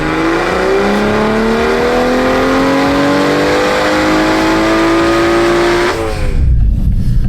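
An 840whp Toyota Supra running on E85 accelerates hard, its engine note rising steadily and loudly through a long pull over about six seconds before cutting off abruptly, heard from inside the car.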